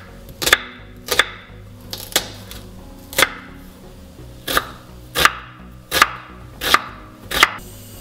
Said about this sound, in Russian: Берем красавец нож, разрезаем луковицу пополам и лук нарезаем кубиком.